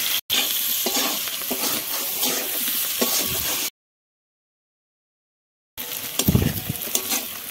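Eggs frying in oil for an egg curry, a steady close sizzle with stirring scrapes, broken by a few seconds of silence before the sizzling resumes with sharper crackles.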